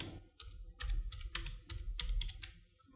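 Text being typed on a computer keyboard, a run of sharp, close key clicks in irregular quick bursts, some doubled, with pauses between clusters, quiet and with no talk.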